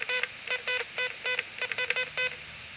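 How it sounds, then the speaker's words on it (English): Call-button beeps come from a Nerf Comlink 2 walkie-talkie. There is a quick irregular series of about a dozen short electronic tones, each with a bright harmonic stack. They are close and fairly quiet with nothing else around them. "but I'll press the call button a couple times to make sure."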